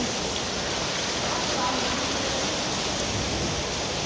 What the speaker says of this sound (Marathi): एवढा पाऊस आहे बघा तुम्ही त्याच्यावरूनच कळतं की किती पाऊस आहे किती पावसाला जोर आहे